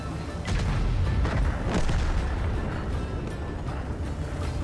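Artillery fire in World of Tanks, the 60TP Lewandowskiego tank battle, rumbling as a series of deep booms and blasts under a constant low battlefield drone, with no voices.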